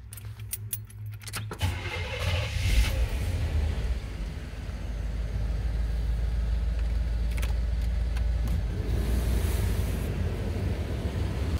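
A Chevy van's 350 5.7 V8 cranks over and settles into a steady, loud idle for AC recharging, with a clicky start followed by a continuous low rumble and no voices.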